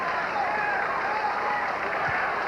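A sellout basketball crowd applauds after a made free throw in a 1992 DePaul at Cincinnati game, a dense, steady wash of clapping and cheering filling the arena while a voice talks faintly over it.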